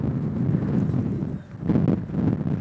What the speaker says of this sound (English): He's got a big gust coming in.